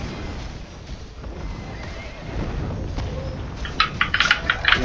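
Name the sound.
horse neighing in a video game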